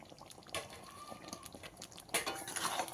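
A spoon stirs grated coconut into a Bengali vegetarian pumpkin curry (kumror chokka) in a pan, with soft scraping and wet clinks, a couple of louder knocks against the pot, close and quiet.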